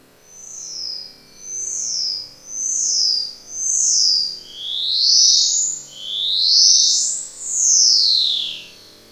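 A bird's song plays slowed down considerably, heard as a series of seven drawn-out whistled sweeps that rise and fall in pitch, growing louder and more complex toward the end, alone without talk.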